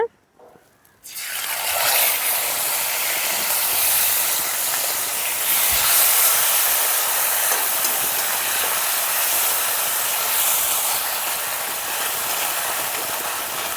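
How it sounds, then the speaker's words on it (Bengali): Ginger paste hits hot oil in a pan for a Bengali ghaura fish curry, and after a brief quiet moment a loud, dense sizzle takes over and holds steady to the end. "এখন দিয়ে দিচ্ছি আমি আদা বাটা"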